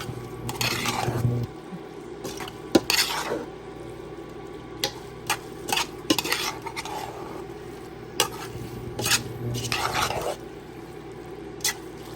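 Ingredients for pancit canton stirred and sizzling in a pan, with a steady frying hiss and repeated bursts of scraping stir strokes at close range, no talking.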